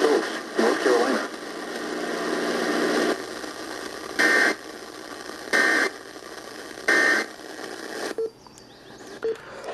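Emergency Alert System warning tones broadcast over radio for a flash flood warning, three loud, evenly spaced shrill attention-tone bursts after a noisy broadcast stretch, followed by quieter data-like chirps.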